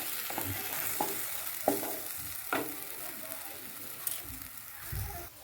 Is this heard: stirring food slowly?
yes